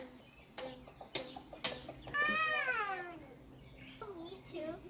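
Chickens clucking in a backyard near a pool, with short clucks and a drawn-out bird call mixed among children's voices and splashing activity.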